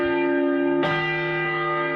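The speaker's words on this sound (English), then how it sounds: "There's a bell." A single bell struck once, ringing with a bright metallic tone and a long sustained decay after a steady tonal hum in the studio of a sports talk show.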